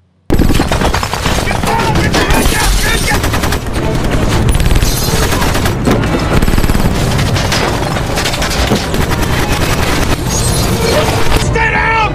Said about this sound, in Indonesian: Mobil mereka pun langsung ditembaki oleh sebuah helikopter dan terjadilah adegan tembak-menembak di sana